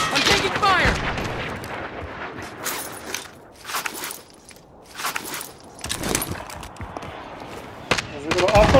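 Gunfire in the video game Call of Duty: Modern Warfare, heard as scattered bursts and single shots mixed with in-game effects, with players talking throughout.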